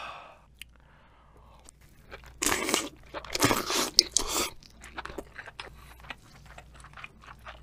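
A 5 kg king crab is cut and eaten up close: quiet scattered clicks, then dense crunching and crackling bursts of shell that fade to lighter snaps and chewing, with no talking.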